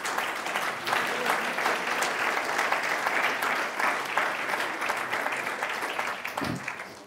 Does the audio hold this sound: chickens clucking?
no